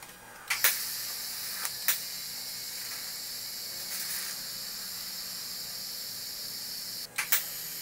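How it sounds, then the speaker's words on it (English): A welder lays short stitch welds on a small cut piece for a wastegate spring, giving a steady close hiss and crackle broken by sharp pops as each arc strikes and stops. "now we're going to weld that little piece that we cut out on the bandsaw"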